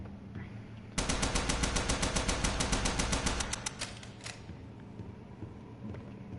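A Tommy gun fires a rapid burst of about three seconds in the horror video game Bendy and the Ink Machine, loud and close, followed by a few faint mechanical clicks and quieter game sounds.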